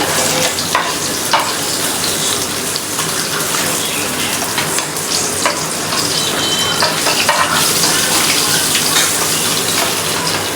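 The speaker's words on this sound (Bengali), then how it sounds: "মাছটা কিন্তু কড়া করে ভেজে নিব" River fish frying crisp in hot oil, a loud, dense, unbroken sizzle and crackle close at hand, with faint scrapes and no voices.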